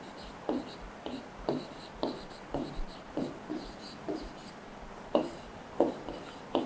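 A maths expression is written by hand on a board during a Class 8 algebra lesson, with a steady run of short, scratchy strokes and taps repeating about every half second, fairly close and with no talking.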